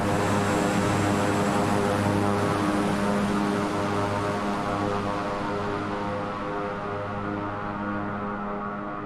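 A Beechcraft King Air turboprop in Microsoft Flight Simulator 2020, flying a tour of Japan, drones with a loud steady engine hum and layered tonal whine, unbroken and slowly fading slightly over several seconds.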